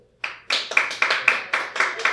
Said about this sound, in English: Clap if you like white wines.